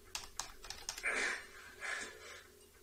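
Typing on a computer keyboard, a quick run of separate key clicks followed by two longer, denser bursts of keystrokes, quiet and close.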